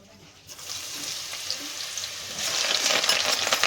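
Ginger, garlic and onion hit hot oil in a pan for pav bhaji, bursting into a steady sizzle that grows louder and denser toward the end, heard close with no talk.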